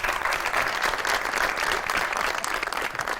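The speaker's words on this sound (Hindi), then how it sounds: "हनी के लिए जितनी भी तालियां हों वो कम है" A studio audience applauds for Honey Albela on the Pakistani talk show Zabardast with Wasi Shah, a dense, steady wash of clapping that holds at an even level throughout with no voices over it.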